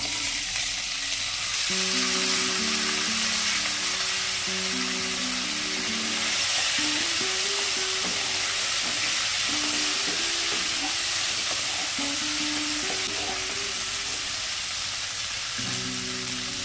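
Cut tomatoes fry in a hot pan for a fish curry, a steady loud hiss and sizzle running throughout, with a faint tonal hum beneath and no speech.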